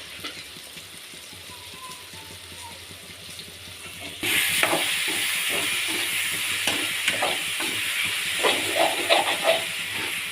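Tomatoes sautéing in oil with salt for prawn gravy, a soft hiss that jumps into a loud, steady sizzle partway through, scattered with small crackles and pops.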